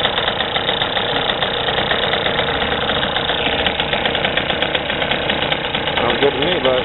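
A 3 hp two-stroke gasoline outboard motor on a sailboat runs steadily at a fast idle, a continuous buzzing drone with a faint knock, and a voice briefly talks over it near the end.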